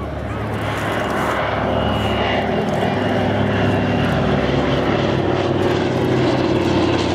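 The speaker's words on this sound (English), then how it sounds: "coming in for its solo display, Radial Revelations, Beech 18" A Beech 18 twin radial-engine propeller aircraft arrives for its solo display at a Duxford airshow, its steady loud engine drone holding throughout, close and continuous with no one talking.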